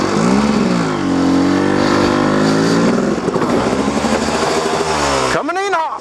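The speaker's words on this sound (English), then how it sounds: "you want to keep your motorcycle running so that you don't have to kick it again" A kickstart motorcycle engine runs steadily close by, its rough, throbbing idle swelling into revs and easing back, then a sharp final rev sweeps up and down at the end.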